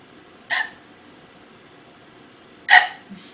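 Someone hiccups twice, each a short, sharp, close-up gulp, separated by about two seconds of near silence.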